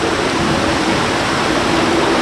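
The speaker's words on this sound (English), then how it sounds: "The flood is produced by dumping thousands of gallons of recycled water from tanks located at the top of the hill." Thousands of gallons of recycled water dumped from hilltop tanks at a theme park flood effect, a loud, steady broadband roar of rushing, cascading water filling the whole stretch without a break.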